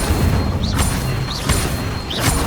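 Incendio fire spell in Hogwarts Legacy, cast three times in rhythmic succession, each a sharp burst with a brief rising whoosh over a continuous game backdrop.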